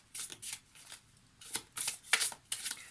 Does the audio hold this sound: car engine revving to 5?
no